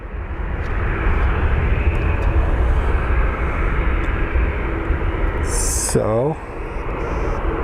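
A CRJ regional jet rolls and takes off at Phoenix Sky Harbor airport, a loud, steady broadband engine roar that fills the whole clip, with a brief voice and a short burst of other noise near the end.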